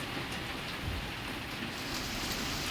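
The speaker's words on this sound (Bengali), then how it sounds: "দেখো কতটা পরিমাণে বৃষ্টি হয়েছে আমাদের এদিকে" Heavy overnight rain pours down steadily in a dense, even hiss that holds at a constant loudness throughout, with no voices and no distinct drops standing out.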